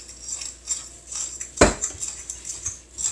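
Chocolate banana muffin batter is mixed in a bowl, soft repeated scraping strokes with one sharp utensil knock against the bowl midway, close and fairly quiet.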